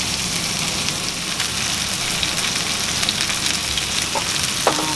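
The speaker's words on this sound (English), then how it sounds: "we're going to sear this beef a few minutes each side before we put in the oven" A tomahawk beef steak searing in a hot pan, a steady close crackling sizzle with a few sharper pops and a faint clink near the end.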